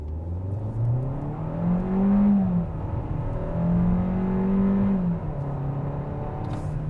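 A 2021 Kia K5 GT-Line AWD sedan's engine revs loudly during a manual-shift launch, climbing in pitch through two rising pulls, then settles to a steady drone. No one talks.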